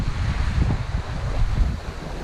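Steady wind rushes over a Hallberg-Rassy 54 sailing yacht as waves wash along the hull at sea, a dense, close roar with low surging pulses and no voices.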